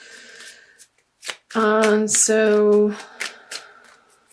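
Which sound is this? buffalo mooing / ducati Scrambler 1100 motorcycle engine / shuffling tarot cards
shuffling tarot cards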